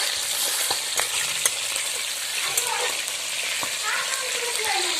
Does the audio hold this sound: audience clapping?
no